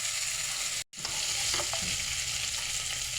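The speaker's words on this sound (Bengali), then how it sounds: "চিংড়ি মাছটাকে লাল লাল করে ভেজে নিচ্ছি।" Prawns fry in hot oil with cumin seeds in a pan, a continuous loud sizzle interrupted by one brief silent gap, with a couple of light scrapes as they are stirred.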